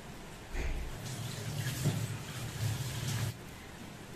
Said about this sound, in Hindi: पानी भर के मेरा हो गया है